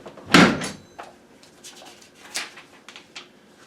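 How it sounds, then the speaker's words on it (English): A closet door bursts open as a sound effect in a spoken horror story for children: one sharp, loud bang, then a few fainter knocks and rattles. "the closet door burst open"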